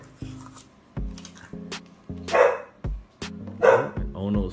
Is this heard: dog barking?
yes